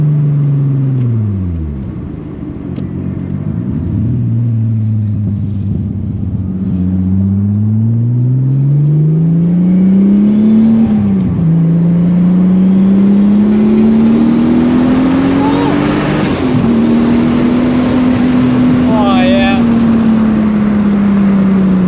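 Inside an all-wheel-drive Volkswagen Corrado with a 250-horsepower engine, the loud engine drone climbs in pitch as the car accelerates hard, drops at each gear change, then keeps rising and holds a high, steady roar.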